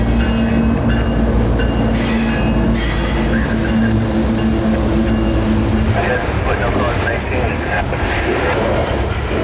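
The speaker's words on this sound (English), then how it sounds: "Rolling across the bypass canal, NO10 was to head into Yeoman Yard on track 3" A loaded coal train rolls steadily across a bridge over a bypass canal, wheels and cars rumbling loud and close with a continuous low drone and occasional squeal, while a voice talks over it.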